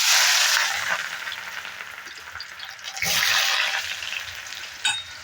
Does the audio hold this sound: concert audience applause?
no